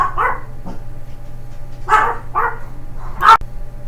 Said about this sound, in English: can't even control my little Yorkies. Barking little things.